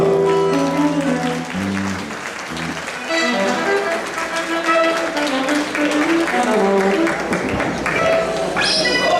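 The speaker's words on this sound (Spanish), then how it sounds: "Venga, las manos, venga, aplauso." A theater crowd at a huayno and folklore show applauds under loud music, the clapping blended into a dense band of instruments and voices that runs throughout.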